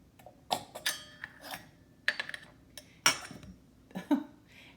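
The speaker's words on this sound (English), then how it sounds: "In a mixing bowl, I'm going to combine my dry ingredients" Flour, sugar and other dry ingredients tipped into a mixing bowl for pumpkin chocolate chip bread, giving a handful of light clinks and soft scrapes against the bowl with pauses between them.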